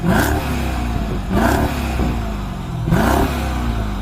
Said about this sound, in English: revving up your V8